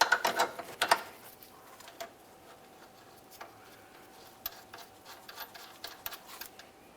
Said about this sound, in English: Align your sway bar link mounting hole and install that mounting bolt.